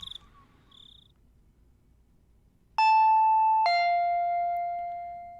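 A two-tone ding-dong doorbell chime from the video game Higurashi rings out clearly: two bright, sustained tones that slowly fade, following faint insect-like chirps in a quiet background.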